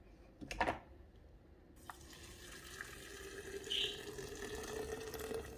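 Boiling water poured from a kettle over parsley in a carafe for herbal tea, a steady close trickle and splash that runs continuously after a brief initial burst.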